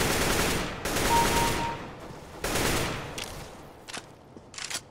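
Rapid automatic gunfire in the video game CS:GO, with sustained bursts of shots that come and go in waves, interrupted by brief pauses and a few quieter single pops.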